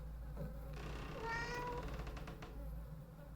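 A cat named Church in an indie horror video game lets out a single drawn-out meow that rises and falls over a steady low hum, fairly close and clear with no talking.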